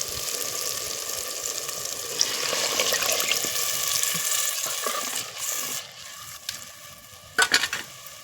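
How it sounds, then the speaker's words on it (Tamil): A ground spice paste of coriander, roasted gram, chana dal, fennel and cumin is poured into a simmering carp fish curry in a village kitchen, giving a close, continuous wet pouring and sizzling sound with a few sharp clatters near the end. "மல்லித்தூள் அரைச்சாச்சு இப்போ இதை ஊற்றிடலாம்"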